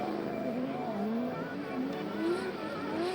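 A drift car at a Hi-Tec Drift Allstars round at Sydney Motorsport Park revs on and off the throttle with a continuous, wavering engine note. The anti-lag popping is not distinct, and no one talks.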